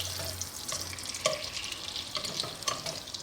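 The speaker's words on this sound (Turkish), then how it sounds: "Oo ne güzel erimeye başlamış. Görüyor musunuz sesi?" Soft crackling sizzle of butter melting in a hot pan, steady and close, with a few faint clinks and scrapes, no talking.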